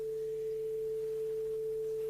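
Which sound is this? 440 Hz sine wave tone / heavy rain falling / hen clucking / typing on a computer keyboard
440 Hz sine wave tone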